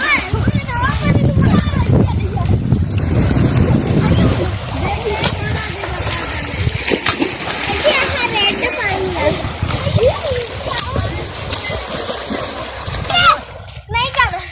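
Children splashing and bathing in a cold canal, with continuous loud water splashing and excited kids' voices and shouts throughout, the splashing busiest in the first few seconds and someone talking over it.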